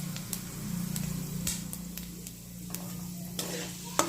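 Three bay leaves and a spoonful of panch phoron frying in oil in a pan for a Bengali duck egg curry, with a soft steady sizzle, sharp clicks of a spoon stirring, and a low hum underneath.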